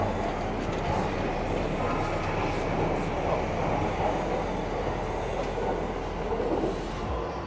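A train arriving at a station in Tokyo, a loud continuous rumble and rolling wheel noise with brake squeals, steady throughout at close range.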